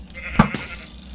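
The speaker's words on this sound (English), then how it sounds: "There's a lot of sheep here." A sheep bleats once in Minecraft, modded with the MC Eternal pack in the Twilight Forest, a short near cry standing alone over quiet ambient game sound.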